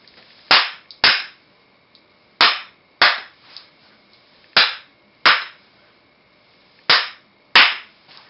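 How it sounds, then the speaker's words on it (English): Sharp hand claps triggering a relay circuit, sounding in close pairs with pauses between, loud, crisp and near, each followed by a brief decay in an otherwise quiet room. "So now two claps will do it."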